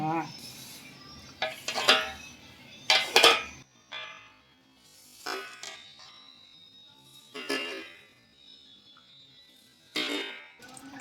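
A spoon clatters against a bowl while dhokla batter of jowar and bajra flour is mixed with spices. Sharp clinks and scrapes come in intermittent bursts with quiet gaps between them.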